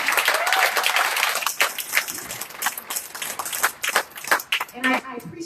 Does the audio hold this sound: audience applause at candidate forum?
yes